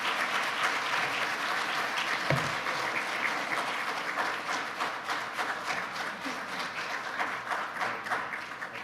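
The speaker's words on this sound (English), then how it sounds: "let's all give a warm welcome and a round of applause to President Sullivan" Audience at a college graduate, donor and sponsor reception applauding a welcomed university president: sustained, dense clapping from a sizable crowd, steady throughout with a few sharper individual claps near the front and no speech.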